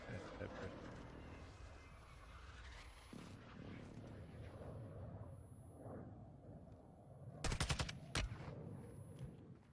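Apex Legends gunfire comes as one sharp burst of rapid automatic shots followed by a single shot, heard over steady in-game ambience with talking in the background.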